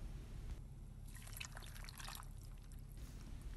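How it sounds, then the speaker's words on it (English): A quarter cup of water is poured over tamarind, red chilies, salt, tomato and onion for a chutney, a faint short trickle lasting about two seconds against a low background hum. "Then add 1/4 cup of water."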